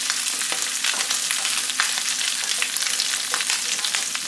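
Sausage sizzles steadily in a hot pan, a dense crackling hiss with scattered small pops, constant and close with no talking.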